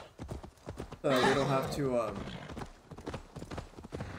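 In the video game Assassin's Creed Valhalla, a horse's hooves clip-clop in a quick, steady rhythm while someone talks over them, with a brief whinny-like sound in the middle.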